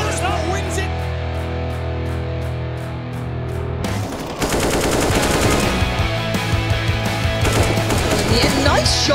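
Rapid bursts of gunfire in Counter-Strike during a professional match, with sharp repeated shots following a stretch of steady game tones, fairly loud and close, with commentators talking underneath.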